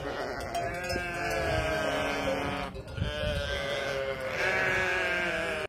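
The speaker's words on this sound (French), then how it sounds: "il y a même des bébés moutons" A flock of sheep with lambs bleats almost without pause, many overlapping calls of varying pitch close by along a rural road, forming a loud, continuous chorus.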